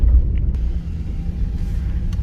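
An off-road vehicle rolls into the Detroit 4Fest park, its engine a steady low rumble heard from inside the cab, with no talking.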